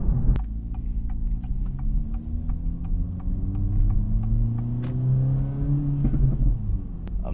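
An Acura Integra Type S front-wheel-drive car engine revs up as it accelerates, its pitch climbing steadily in a smooth drone, with a few faint clicks over the rumble.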